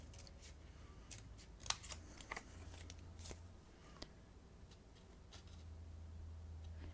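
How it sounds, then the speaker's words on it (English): Scissors notch and snip a folded paper card along its crease, giving a few soft, close, crisp cuts scattered among quiet handling rustles. "I kind of just stick my scissors right on the crease line"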